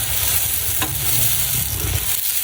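Kutti dosa batter sizzles and crackles steadily on a small hot dosa griddle, a close, continuous frying hiss with a light scrape partway through, no voices.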